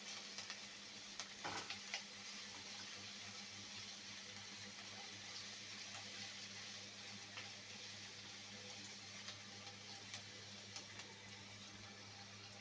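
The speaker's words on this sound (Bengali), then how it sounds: "একটু লাল লাল করে ভেজে নিতে হবে, রসুনের কাঁচা গন্ধটা যাওয়া পর্যন্ত।" Garlic frying in a pan: a steady, quiet sizzle hisses on without pause. Faint stirring scrapes and clinks poke through it now and then, and no voice is heard.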